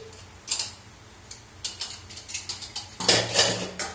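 Pots and dishes being packed away, a run of close metallic clinks, clatters and knocks at an uneven rhythm, with a louder clattering burst near the end.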